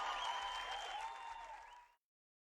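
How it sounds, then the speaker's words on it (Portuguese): Church audience applauding during a live youth worship event, a dense burst of clapping that holds steady and then cuts off abruptly after about two seconds. "Olha lá as palmas."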